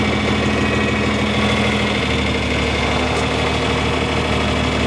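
A John Deere 4020 tractor's diesel engine runs at a steady, rumbling low idle as the clutch is eased out to back up during corn cultivating, close and continuous with no voices.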